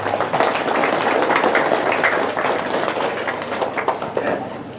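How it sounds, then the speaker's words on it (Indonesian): An audience at an Islamic religious lecture claps, producing a dense, continuous wash of applause that stays loud and even throughout before tapering slightly at the end. "Tepuk tangan."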